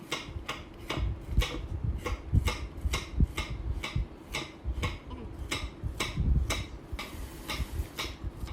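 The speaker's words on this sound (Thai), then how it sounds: "จากนั้นก็มาทำการหั่นค่ะ หั่นชิ้นเล็กชิ้นใหญ่ตามใจชอบเลยนะคะ" Steady knife chopping young coconut shoots, about a dozen sharp strokes falling in an even rhythm against a board, close and fairly quiet, with no talking.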